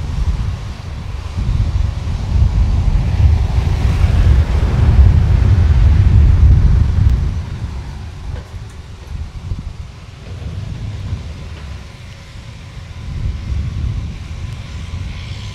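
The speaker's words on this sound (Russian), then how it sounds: "Также ветер немного дует," Outdoor wind blows beside a road under construction, a broad low rumbling buffet on the microphone, loud and gusty at first, then easing into softer irregular gusts.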